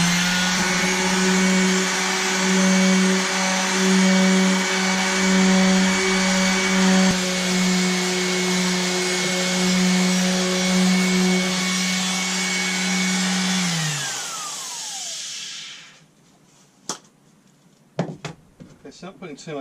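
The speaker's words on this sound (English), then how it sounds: "we're starting with a 600 grit sandpaper just to try and take all these real rough scratches out" A power sander works stainless steel fishing teasers with 600 grit sandpaper, giving a steady, loud motor whine for about fourteen seconds before spinning down, followed by a few scattered clicks and knocks.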